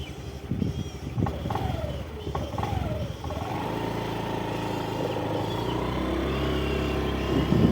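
A Honda 110cc motorcycle engine heard while riding, a steady droning hum that revs and settles into a continuous loud tone, with wind rumble and no talking.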